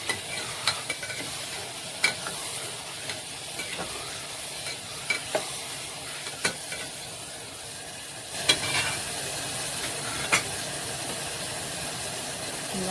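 Ground onion, tomato and garlic paste stirred in a frying pan, a continuous low sizzle with intermittent scraping and tapping of the spoon, close and moderately quiet, no talking.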